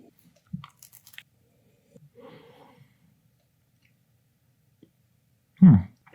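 Someone bites into a soft pretzel dipped in taco-seasoned nacho cheese, giving one loud, close chewing burst near the end after mostly quiet handling sounds and faint breathing.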